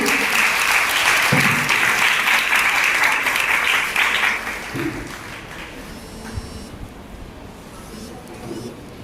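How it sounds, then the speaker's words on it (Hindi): A crowd applauds loudly for about four seconds at a Good Friday church service, then the clapping fades into scattered claps and room noise. "जोरदार ताली बजाइए यीशु मसीह।"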